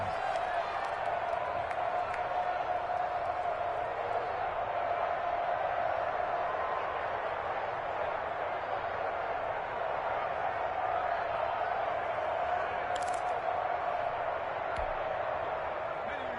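Crowd noise in a PS4 American football video game with the Chiefs on offense: a steady, continuous stadium roar of cheering that holds at an even, moderate level throughout with no break.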